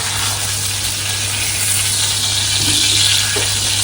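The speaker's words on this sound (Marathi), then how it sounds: "मोडवशा माशाला आता पलटी मारली छान क्रिस्पी झालेला दिसतंय" Modavsha fish fries crisp in a pan, giving a steady, close, bright sizzle with a faint clink of turning near the end.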